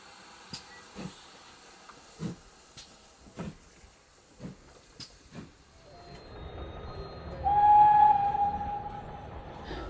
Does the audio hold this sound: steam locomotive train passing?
yes